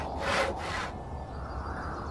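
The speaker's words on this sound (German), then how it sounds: "wir haben Holzscheiben gesägt" Rasping strokes of a saw cutting wooden discs in a Gothic 2 mod video game. Two or three short, fairly quiet back-and-forth strokes are heard, then a faint hiss, with no speech.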